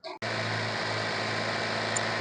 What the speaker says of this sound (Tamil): இப்போ என்னோட இன்ஜின் கண்டிஷன் எப்படி இருக்குன்னு ஸ்டார்ட் பண்ணி பார்த்தலாம்